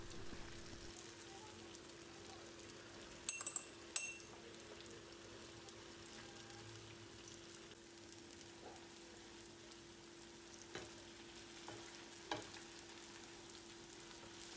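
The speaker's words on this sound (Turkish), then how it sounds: "Görmüş olduğunuz gibi bu şekilde narin bir şekilde karıştırıyorum." Lokma dough balls fry in a pan of oil with a faint, steady crackling sizzle, broken by a few soft knocks as they are gently stirred.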